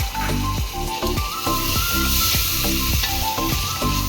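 Spiced mutton kurma sizzles loudly in a pan as lemon juice goes in, with rhythmic stirring strokes about every half second over a constant hissing fry.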